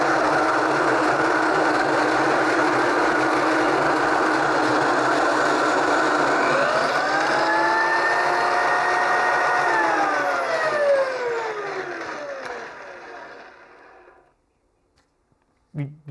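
A power drill set to high RPM spins a coffee grinder through light roast beans, giving a steady loud whirring grind that rises in pitch midway, then fades out and stops near the end.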